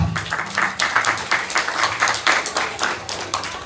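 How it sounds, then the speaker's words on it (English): A modest group at a school parent meeting claps for their president, a short burst of distinct individual claps in an irregular but steady rhythm, fairly close. "clap it up for Ken."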